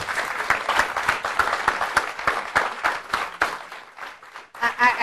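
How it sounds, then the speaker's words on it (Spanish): A conference audience in Ciudad Juárez applauds a speaker, a brief burst of clapping mixed with voices over about five seconds before a pause and a few more claps. "Un aplauso a nuestra conferencista."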